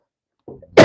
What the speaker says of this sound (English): I told you guys I have cough.